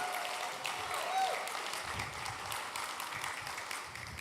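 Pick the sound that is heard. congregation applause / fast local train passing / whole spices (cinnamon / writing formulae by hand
congregation applause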